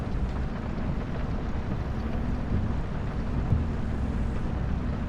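An old tractor in a field gives off a low, steady engine rumble mixed with wind buffeting the microphone. The rumble stays continuous and fairly loud, with no one talking.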